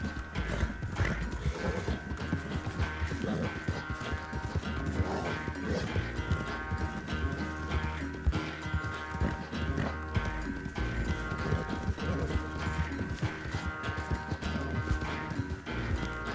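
A horse gallops in Red Dead Redemption 2 with steady rhythmic hoofbeats and an occasional whinny, all under a constant layer of game music and ambience.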